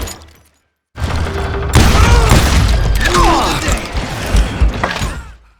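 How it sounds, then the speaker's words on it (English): Gunfire in the western shooter game Call of Juarez Gunslinger, with punchy shots and booms mixed with mechanical clicks and creaks. Game voices and effects sound over a busy backdrop after a brief silence. "The gun all sounds punchy and satisfying."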